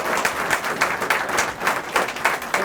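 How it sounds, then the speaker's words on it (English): Audience at an annual association meeting applauds the incoming president, a steady wash of many hands clapping with rhythmic peaks, moderately loud and continuous, with no talk over it. "Let's have another round of applause for our incoming president."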